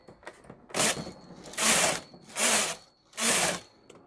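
A knitting machine carriage is pushed back and forth across the needle bed to knit rows, giving four evenly spaced bursts of rasping, clattering mechanical sound, close and fairly loud, with brief pauses between passes.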